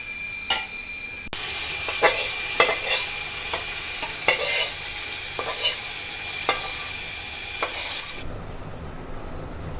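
Fried rice mixed with cooked chicken for chicken biryani is stirred in a pan over steady sizzling, with a spoon scraping and knocking the pan in repeated sharp taps until the sizzle briefly drops near the end.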